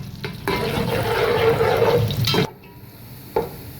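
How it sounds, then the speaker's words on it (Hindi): Sliced onions fry in hot oil in a pot on the way to golden brown for a beef yakhni biryani. A loud, close, steady sizzle lasts about two seconds, then cuts off to a quieter hiss with one brief rattle. "इस प्याज को जो है गोल्डन ब्राउन करेंगे, मतलब अच्छी खासी जो है हमारी प्याज फ्राई हो जाए।"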